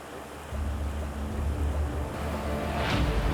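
Floodwater from the Ashburton River surges over its broken banks onto a track, a steady broadband rush of flowing water with a low rumble and some wind buffeting, loud and continuous throughout.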